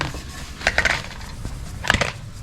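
A worn clutch flywheel with its friction material gone, studs showing, is flipped over on a workbench, giving two short bursts of metallic clanks and rattles, close and moderately loud.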